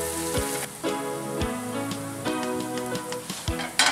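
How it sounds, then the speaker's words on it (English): Scallions sizzle and crackle in a hot pan of chicken Diane, with a steady frying hiss and a few louder stirring scrapes and spatters, close by, with no talking. "I'm adding in the scallions along with that."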